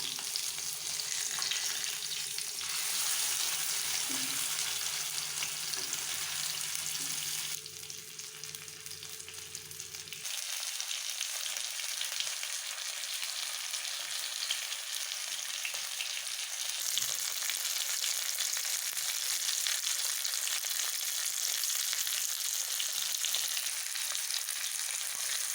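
Fish sizzles steadily in hot oil in a pan for a Tamil-style fried fish (meen varuval): a dense, continuous crackle with a low hum underneath during the first part, and no talking.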